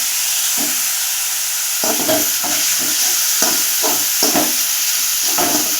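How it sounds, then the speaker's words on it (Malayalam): Crushed onions with salt sautéing in a pan, with a steady sizzling hiss throughout and several soft stirring scrapes and knocks of a spoon against the pan, close and continuous. "ഉള്ളി നമുക്കൊന്ന് ചെറുതായിട്ടൊന്ന് വഴിച്ചെടുക്കണം"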